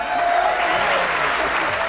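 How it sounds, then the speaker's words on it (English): A studio audience claps steadily in a dense, continuous round of applause for a talk show, heard close and loud with no pauses. "Thank you for the nice round of applause"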